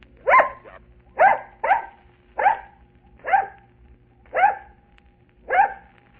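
On stage, a dog gives seven sharp, evenly spaced barks counting out a number, each bark loud and close with short pauses between, in a quiet old radio broadcast.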